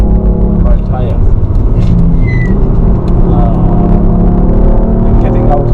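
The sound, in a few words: car accelerating on the Nürburgring, onboard RingTaxi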